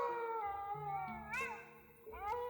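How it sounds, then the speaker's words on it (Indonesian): Long dog howls on a mountain slope in Central Java rise and overlap as several animals answer one another, sustained wavering cries with a reverberant, eerie tone. "ada suara lolongan anjing yang sangat panjang, serta saling bersautan di lereng gunung"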